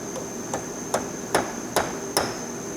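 Six evenly spaced, sharp metallic hammer blows land on a chisel to drive out a stuck part on an International Harvester 706 tractor, close and ringing over a faint steady background hum.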